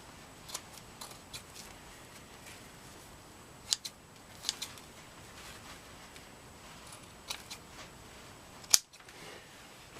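Scissors trim leather for moccasins with a few faint, sparse snips and clicks in a quiet room. One sharper cut comes near the end.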